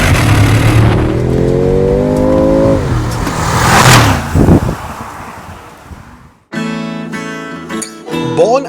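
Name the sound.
Mercedes-AMG G63 M177 4-liter twin turbo V8 engine revving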